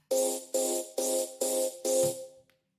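A bright synth tone with a shaper mapped to gain pulses five times in a steady, pumping quarter-note wobble, each swell rising then cutting off, ending with a short tail.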